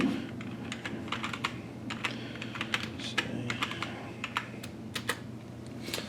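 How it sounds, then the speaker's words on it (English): Fingers tapping on a computer keyboard at a command-line prompt for an arcade Raspberry Pi setup, with a steady run of close, crisp keystrokes in quick irregular bursts over a low steady hum. "we prompted the command line here and just type out emulation station"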